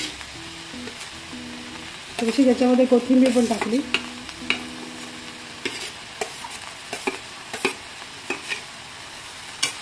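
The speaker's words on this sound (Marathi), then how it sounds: "आता आपल्याला हे सगळं कांदा आणि टोमॅटो तळून घ्यायचं, पूर्ण तेल टाकलंय त्याच्यामध्ये कढईत।" Onion and tomato, with a little coriander, fry in oil in a kadhai, a soft sizzle under bursts of spoon stirring and scraping against the pan, while someone speaks briefly.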